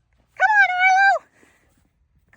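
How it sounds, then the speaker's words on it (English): A drawn-out, sustained whine or howl of about a second from a purebred 1.5-year-old English Shepherd farm dog, clear and fairly close in a quiet setting, followed by a short start of another call. "he is an English Shepherd, purebred English Shepherd dog"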